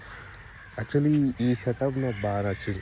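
Crows cawing in the early morning outdoors, several loud harmonic caws in irregular succession, close by, with a person talking over them.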